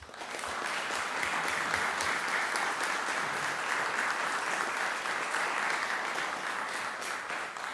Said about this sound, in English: So applause to all of you guys.